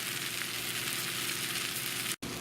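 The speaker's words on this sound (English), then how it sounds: "what you still hear sizzling in my cast iron pan is the tender crisp red, yellow, and orange peppers and the sweet Vidalia onions" Red, yellow and orange bell peppers and sweet Vidalia onions sizzle steadily in a cast iron pan, a loud, even frying hiss with no talking and a brief dropout near the end.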